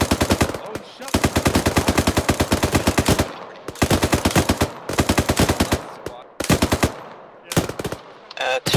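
Rapid automatic gunfire from a military shooter game rattles in several long, loud bursts separated by short pauses, with a few single shots near the end.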